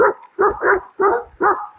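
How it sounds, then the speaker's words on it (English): Several dogs barking in an outdoor morning setting, four or five loud, close barks in an irregular rhythm, with no talk. "a lot of dogs."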